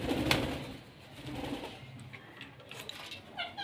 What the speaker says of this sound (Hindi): सारे फिंच दोस्तों नीचे आए हुए हैं।